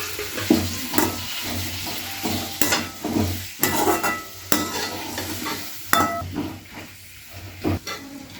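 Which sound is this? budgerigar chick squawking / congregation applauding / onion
onion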